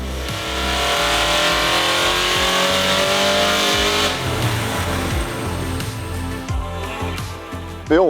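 A 1992 HSV SV93 Statesman with a Harrop-supercharged 5-litre Holden V8 runs loud and close, its engine note rising and falling through several revs and gear changes, with a sharp blip at the end.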